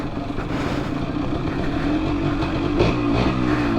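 A dirt bike engine revs loudly nearby, its buzzing note rising and falling in continuous bursts with a sharper throttle blip near the end.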